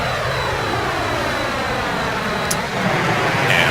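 Steady, loud turbine whine and roar from a T-38A jet engine in the MILVIZ flight simulator game, a continuous even drone from start to finish with a brief faint click partway through.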